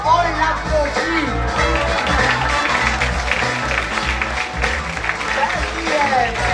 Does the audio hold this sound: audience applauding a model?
yes